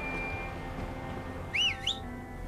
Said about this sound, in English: Who's she whistling for?